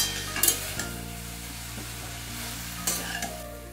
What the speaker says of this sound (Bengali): ভালো করে বেগুনটা একটু শাকের সাথে একটু নেড়ে চেড়ে নিচ্ছি